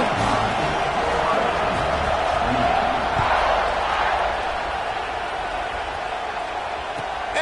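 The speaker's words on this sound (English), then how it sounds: "this crowd is buzzing after that last score" A college football stadium crowd during an Ohio State game keeps up a steady, broad roar and murmur that eases slightly toward the end, with a commentator's voice talking over it.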